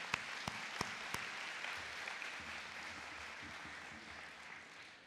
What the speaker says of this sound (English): Could you join me in giving her a big round of applause?